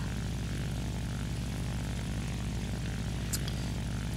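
A stock, unupgraded La-5 propeller fighter flies in a video game. Its engine makes a loud, constant throbbing drone with a rapid pulsing rhythm that stays unchanged throughout, heard alone with only a short high click near the end.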